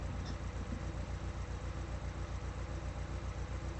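Three-cylinder car engine with a misfire idling, a steady low rhythmic chug with a faint irregular stumble, quiet and continuous with no voices.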